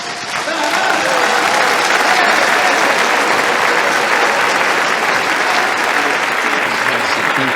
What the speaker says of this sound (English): Let's have another round of applause for Dr. Gregory Little, please.